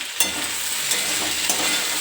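Ripe bitter gourd and potato frying in a home kitchen pan, a steady dense sizzle with a few sharp crackles and stirring scrapes, close and loud with no talking.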